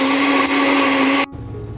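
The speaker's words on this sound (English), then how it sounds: "Add the mangoes to the blender with a little bit of water. Add a dab of honey and blend." Countertop blender whirring through frozen mango chunks with water and honey, a loud steady motor whine that cuts off sharply near the end.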